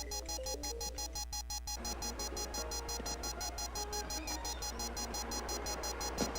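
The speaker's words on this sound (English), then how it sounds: "There's an emergency alarm going off in Alex's apartment." A repetitive electronic emergency alarm blares through an apartment in the PS1 video game Fear Effect, a loud, steady pulsing beep that rings continuously over background game music and hum.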